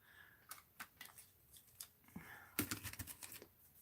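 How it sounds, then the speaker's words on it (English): Scissors snip paper into a heart shape for an art journal page, with quiet, irregular cuts close by that speed up into a rapid run of snips toward the end. "So let's cut this into a heart shape."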